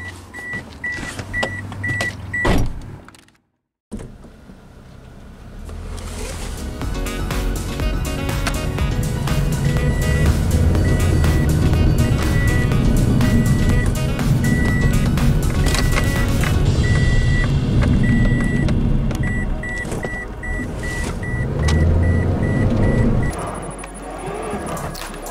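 A 2006 Toyota Corolla with freshly installed front brakes setting off to bed them in: a repeating door chime and a thump, then a loud, sustained engine and road rumble that swells and settles as the car drives.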